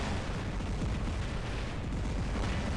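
Robot weapons firing in the War Robots video game, a dense, continuous roar of booming blasts and explosions, loud and unbroken throughout with no talk.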